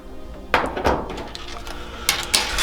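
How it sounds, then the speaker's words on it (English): Side cutters snip the tail of a cable tie while a tail tidy is fitted to a 2023 Suzuki GSX-8S motorcycle, giving a few sharp, close clicks and snaps amid light handling noise. "we'll just use our side cutters to clip that off"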